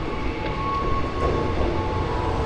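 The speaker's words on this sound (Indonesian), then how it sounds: "KRL-nya udah keburu lewat, baru ngomong" A KRL commuter train runs past at Solo Balapan station, a loud, continuous rumble and roar of wheels on rails with faint tonal squeals, steady throughout with no talk.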